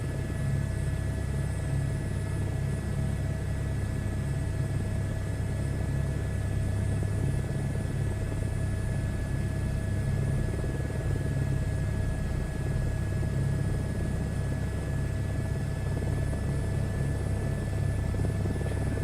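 A helicopter in a flight simulator game drones steadily throughout, a constant engine and rotor hum with a low rumble and faint high whine, no talking.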